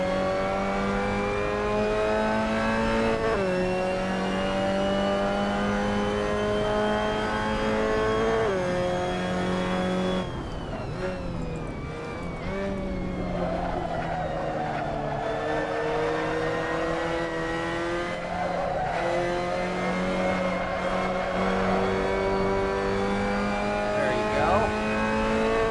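A Mazda Miata MX-5 Cup car in a sim racing game, its engine droning steadily with rising revs, a sharp downshift dip under braking, then pulling hard again while someone talks over it.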